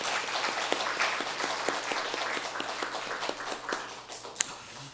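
A church congregation at a Sunday service claps to welcome newcomers, dense steady applause with individual claps standing out, moderately close, lasting throughout with a low hum beneath.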